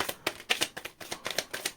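A deck of tarot cards being shuffled by hand in a quick series of crisp riffling bursts, close and fairly quiet, with no talking over it.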